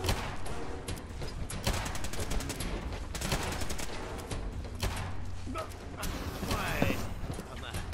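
Gunfire rattles through a firefight in the video game Fallout 4, bursts of rapid shots and single cracks repeating over several seconds amid clattering mechanical noise.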